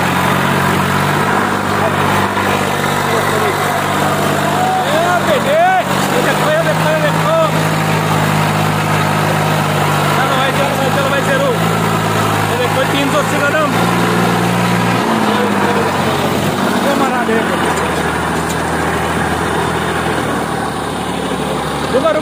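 An Eicher tractor engine runs under load outdoors, a loud steady low rumbling drone that continues throughout, with people talking over it.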